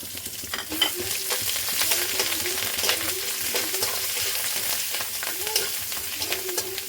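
Grated ginger sizzling in hot oil with bay leaf, cumin, cardamom and cinnamon in a pan for Bengali chicken curry, a steady loud fry with repeated stirring scrapes, close and continuous, no talk.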